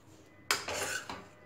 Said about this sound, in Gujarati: હવે કુકરને ખોલી લઈએ, બધી જ હવા નીકળી જાય પછી જ આ કુકરને